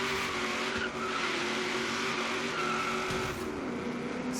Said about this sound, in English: Practice our little drift slash donuts here.